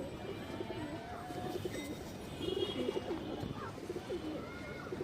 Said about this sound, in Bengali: খুবই হাই কোয়ালিটির একটা বাগান নর কবুতর, একদম পুরান লাইনের